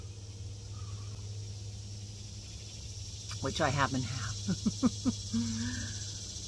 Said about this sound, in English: Cicadas are loud today.